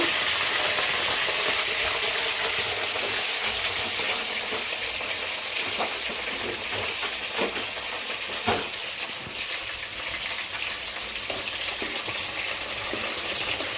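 Broad beans sizzle in a little hot oil for a Godavari-style curry, a dense, steady hiss with occasional small pops and spatters, heard alone and close.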